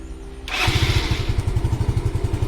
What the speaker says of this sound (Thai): ลองสตาร์ทมือนะครับ